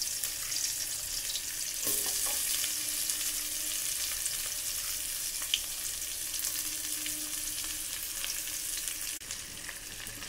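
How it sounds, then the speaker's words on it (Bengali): Onion and chili sizzle steadily in hot oil in a pan just used for frying fish, a continuous close hiss with small crackles and stirring scrapes, no voices. "পেঁয়াজ আর লঙ্কা দিয়ে দেবো।"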